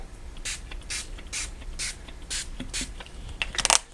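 Spray stain misted from a small craft bottle onto paper leaves: a run of about eight short, close, airy hissing bursts at a steady rhythm, each a quick pump, with a few quicker bursts at the end.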